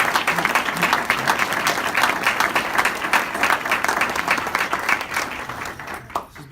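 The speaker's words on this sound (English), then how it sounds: "if we could give another big round of applause here for Pastor James" An audience at a chaplain course gathering breaks into sustained applause, dense and steady clapping that fills the room before tapering off near the end.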